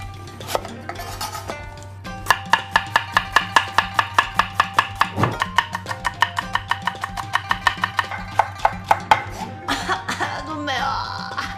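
Onion being chopped with a knife on a cutting board while cooking, a steady run of sharp, close chops in quick rhythm, pausing briefly midway, over a faint background hum.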